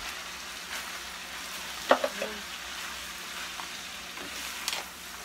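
A tater tot casserole gets stirred lightly as it cooks, with a faint low sizzle and a couple of brief utensil clicks against the dish.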